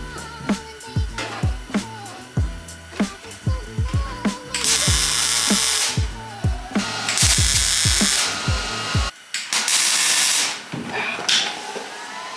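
Sharp metallic hammer strikes on a BMW E28 body panel in an irregular rhythm, close by, interrupted by several loud hissing bursts of an air or power tool.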